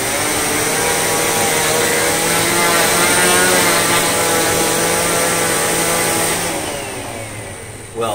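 A vacuum cleaner set to its carpet setting, either a Simplicity Symmetry or a Riccar 8850, runs loud and steady over a thick doormat, its droning motor and agitator whine holding, then easing off near the end.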